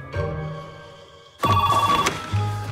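Mobile phone ringing during a cinema manners advert: a tonal electronic ringtone, close and clear, turning louder and denser halfway through over a low hum.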